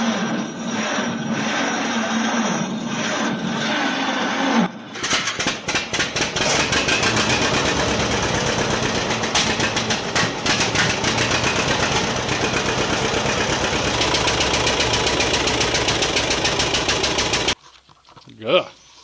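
A John Deere 70 tractor engine cranking over on a cold morning, catching after about five seconds and settling into a loud, rough, pulsing idle that runs steadily before cutting off near the end.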